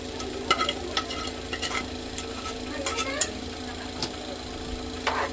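Afghani chicken gravy mixture with fried chicken pieces being stirred in a pan, a steady low sizzle under soft scraping and a few sharp spoon knocks against the pot throughout.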